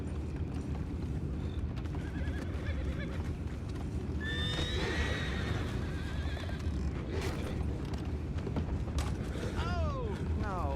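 A horse neighs in a loud, shaky whinny in the middle of a Red Dead Redemption 2 scene, with hooves clopping and a constant game background around it, and a second shorter whinny near the end.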